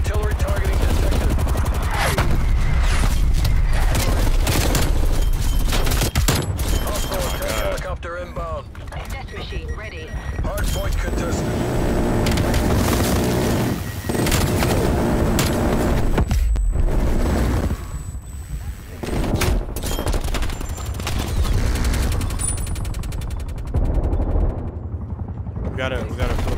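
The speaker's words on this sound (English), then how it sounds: "Artillery targeting detected." An artillery strike in Call of Duty Black Ops Cold War brings loud, dense bursts of gunfire and booming explosions, a nearly continuous barrage with brief lulls. Voices talk throughout.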